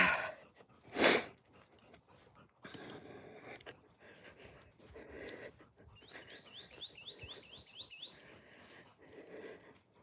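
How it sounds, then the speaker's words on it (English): Quiet outdoor ambience with scattered bird chirps and a short run of repeated high tweets, plus a few soft nearby thumps and rustles. "I'm being quiet so you guys can hear the birds."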